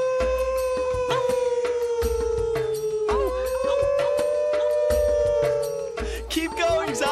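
Preschoolers and a costumed lemur character on a children's nature TV show imitate wolf howls with their voices: long, sliding, sustained howls that rise and fall close up and continue throughout.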